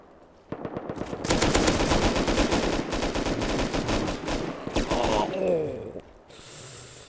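Gunfire in the survival video game Rust, a rapid sustained burst of automatic shots, loud and close, followed by scattered shots and a short trailing noise.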